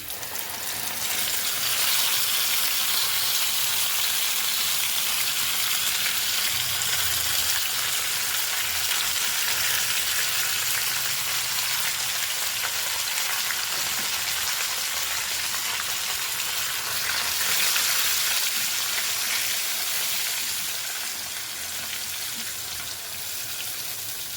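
Onion-tomato gravy sizzles and fries steadily in a pan over a tempering of chillies and curry leaves, a continuous loud hiss with no talk.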